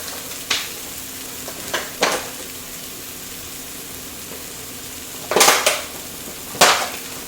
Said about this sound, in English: Get our spinach in there.